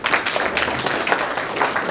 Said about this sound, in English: Can you clap for it?